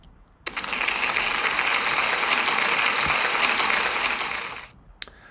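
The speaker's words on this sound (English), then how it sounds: "So can we give Keira a big round of applause?" Pupils and staff at a school celebration give Keira a round of applause, a full burst of many hands clapping that starts suddenly, holds steady for about four seconds, then cuts off.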